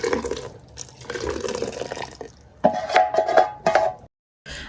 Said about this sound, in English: Now I'm going to just add in my stew,